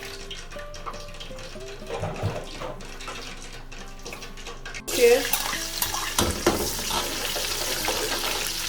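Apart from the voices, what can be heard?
water being poured into a cooking pot with yam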